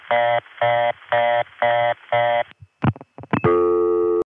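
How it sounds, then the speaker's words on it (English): Reorder tone from a crossbar tandem: five evenly spaced, loud buzzy bursts of a harsh low tone, then a few sharp clicks and a steady, continuous buzzing tone to finish. "When a reorder tone sounds like this"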